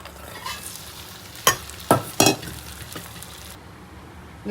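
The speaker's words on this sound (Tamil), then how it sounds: "இப்போது சாத்தை போட்டு கலக்க வேண்டியதான்." Cooked rice stirred into a peanut mixture in a pan, with three or four distinct scraping strokes of a spoon against the pan over a low background hiss.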